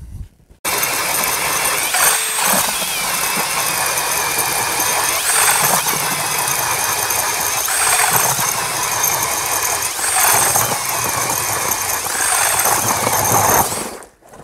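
A Ridgid Octane cordless drill driving a K-Drill ice auger through thick ice, a steady loud whirring grind that runs continuously for over ten seconds, with brief surges and ratcheting mechanical strain along the way.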